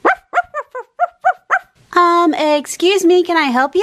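A cartoon dog gives a quick run of about seven sharp, evenly spaced barks up close, then a voice starts talking over a bright, sustained tone.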